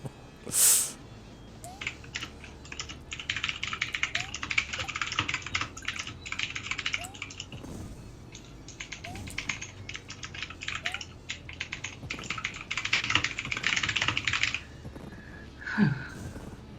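Rapid computer keyboard typing goes on almost continuously for several seconds, close and fairly quiet, with brief pauses and occasional small game sound effects, and no talking.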